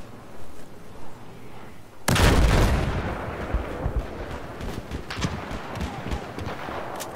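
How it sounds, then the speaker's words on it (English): Air mines firing in the video game Battlefield 4: a sudden loud blast after two quiet seconds, followed by a rumbling tail and scattered distant pops and thuds. "my air mines have both fired and they haven't exploded yet"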